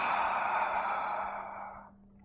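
One long, close exhale through an open mouth, a steady breathy rush that fades away after about two seconds during a yoga session.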